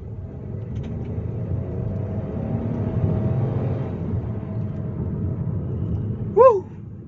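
A Geely Coolray crossover accelerating hard gives a steady low engine rumble and road roar heard from inside the cabin, staying even for several seconds, with a brief sharp squeak near the end.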